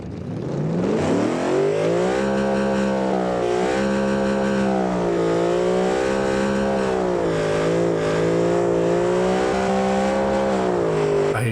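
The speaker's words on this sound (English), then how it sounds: "this car is so fast" A turbocharged Yugo car engine with twin compound turbos, in a racing video game, holds a loud, steady high rev that swells and dips slightly as it speeds along, with no talking over it.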